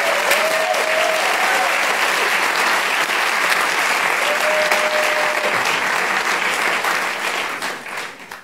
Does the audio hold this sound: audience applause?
yes